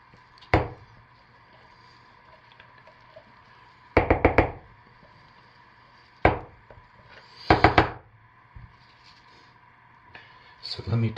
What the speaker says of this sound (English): So let me tap this down.